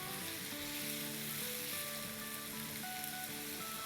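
Potatoes for a vegetable casserole fry in a pan, giving an even, continuous hiss and crackle that stays faint and steady throughout with no talking.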